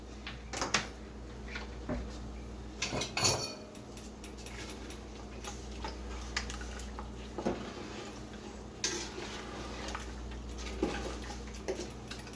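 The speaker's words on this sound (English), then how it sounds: "we have been stirring this for a while, cooking it down on the stove" Strawberry jam with lemon juice cooks down in a pot on the stove while being stirred. Soft, irregular spoon clicks and taps sound over a low, steady hum, fairly quiet, with no talking.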